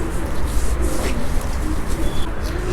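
Pigeons kept by a child cooing close by over a dense, loud background rumble, their soft repeated coos running through the whole stretch.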